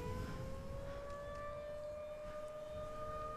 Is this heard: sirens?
yes